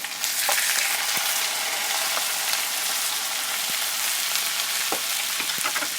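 Chicken pieces fry with browned onions in a pot, giving a loud continuous hiss and crackle, with a few sharp ticks from the stirring spoon.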